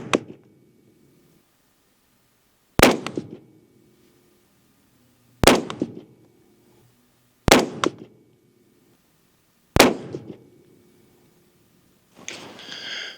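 A 6.5 Creedmoor rifle fires Barnes Harvest Collection ammunition: four sharp, loud cracks a few seconds apart, each with a short ringing tail, followed by a brief rustling noise.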